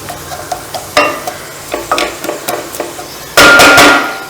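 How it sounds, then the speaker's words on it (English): A spoon stirs bamboo shoot curry in a pan on a low simmer, giving light rhythmic scraping taps against the pan under soft sizzling, then a louder, longer burst of scraping and sizzling near the end. "Give it a stir."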